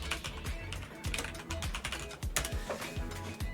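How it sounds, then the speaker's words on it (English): Rapid clattering of typing on a computer keyboard, dense irregular keystrokes with louder clicks mixed in, close and steady throughout. "I'm typing it in chat."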